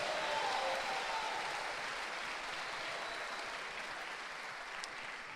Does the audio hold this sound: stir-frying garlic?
no